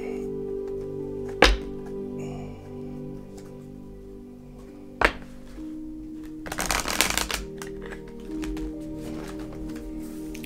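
A large tarot deck riffle-shuffled in a brief burst of rapid flutter, followed by a few sharp taps of the deck settling, close and fairly quiet.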